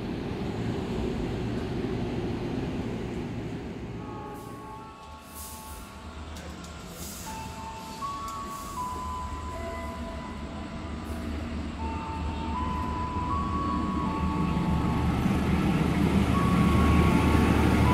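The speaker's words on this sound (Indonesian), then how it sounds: "Langsung ada KRL JR2058 nih di jalur 1." A KRL commuter train, number JR2058, pulls into track 1 at a busy Jakarta station. A low rumble builds steadily, with sustained tonal whines from the train over it, and no one speaks.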